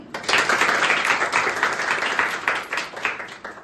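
Audience clapping at a school Hindi Day play fills the room: steady, dense, close applause that holds at an even level throughout, with no voices on top.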